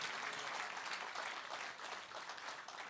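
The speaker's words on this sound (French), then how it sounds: "Applaudissons pour le Seigneur." Congregation applause during a French-language church sermon, a dense, steady wash of many hands clapping throughout, fairly distant and sustained with no pauses.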